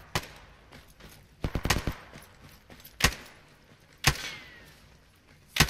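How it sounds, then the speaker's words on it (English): Sharp pistol gunshots crack in an Arma co-op combat mission, several separate reports spaced irregularly, a quick cluster near the start and single loud shots later, over faint background noise. "Someone with a pistol taking shots at us?"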